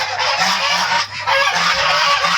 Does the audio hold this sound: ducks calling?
yes